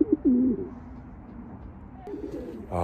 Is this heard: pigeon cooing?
yes